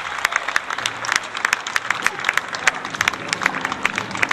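An outdoor crowd applauds a historical parade group on a cobbled town square in Tolentino, producing a lively, uneven patter of sharp individual claps over a fainter background murmur.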